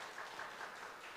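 A church congregation applauding a missionary family during a Friday night prayer service, soft brief clapping with a light irregular patter, distant and low in level.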